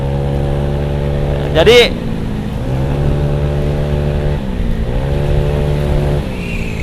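A bored-up Honda Scoopy scooter engine idles steadily, then revs sharply in one quick blip and settles back, revving again more lightly later, close and loud with someone speaking briefly.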